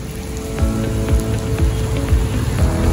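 A heavy rain downpour drums steadily and loudly on surfaces outdoors, a dense continuous patter with scattered louder drops and no voices.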